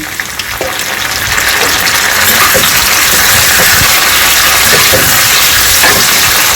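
Tomatoes fry loudly in a pan for an idli and dosa chutney, making a dense, steady sizzle and hiss with occasional stirring scrapes. It runs close and unbroken throughout.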